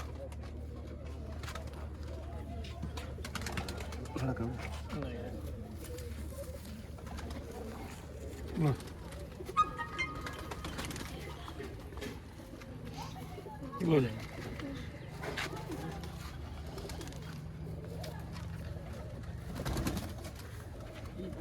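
Pigeons coo softly in the background with low, rounded calls while someone talks intermittently nearby.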